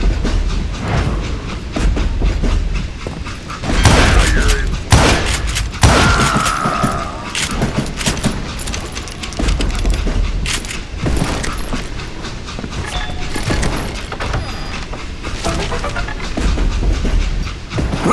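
A train rumbles along continuously in the video game Call of Juarez: Gunslinger, a loud, steady clatter of wheels and carriages with heavy thuds and booming impacts layered over it.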